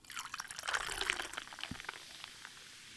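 Club soda poured into a glass for a gin and tonic, a soft fizzing trickle with small splashes and bubbles that tapers into quieter dribbles near the end, close but faint.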